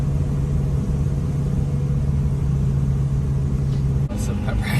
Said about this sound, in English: So much speed from that downshift, but we need to, because this is a pretty steep hill.